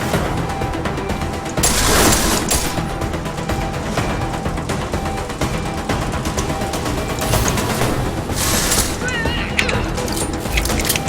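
Combat rifle gunfire rattles in Deus Ex: Mankind Divided, dense continuous shooting with sharp impacts and crashes layered over game ambience and someone talking.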